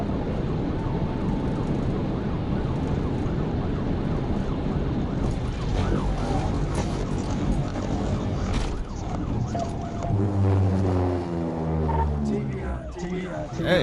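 A police squad car speeding at high speed, its loud engine roar and wind rush dominating while a siren wails underneath, continuous throughout with voices talking over it.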